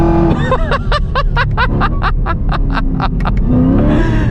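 A 1000 hp Exorcist Camaro ZL1 accelerating on throttle makes a loud, close engine roar broken by a rapid run of rhythmic crackling bursts, then a sustained drone.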